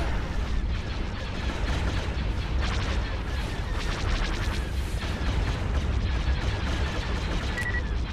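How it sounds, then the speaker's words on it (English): Heavy, continuous barrage of turbo laser fire in a Star Wars: Forces of Corruption space battle, with rumbling booms, loud and dense throughout, with no pauses. "Our turbo laser batteries firing."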